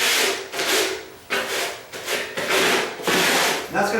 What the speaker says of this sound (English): now I'm going to use that as my little scraper